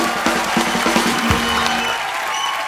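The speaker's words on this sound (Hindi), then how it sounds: "जोरदार तालियां एक बार हो जाएं।" Studio audience applause at a comedy talk show, a dense wash of clapping and crowd noise that swells briefly and holds steady, with a few tonal music or voice elements mixed in early on.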